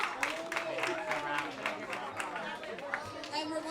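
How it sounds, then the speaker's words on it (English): A celebration audience breaks into a round of applause for itself, dense clapping blended with crowd chatter and voices throughout, steady and fairly close. "Give yourselves a round of applause."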